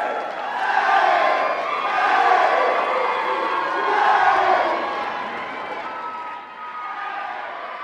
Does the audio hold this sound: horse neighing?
no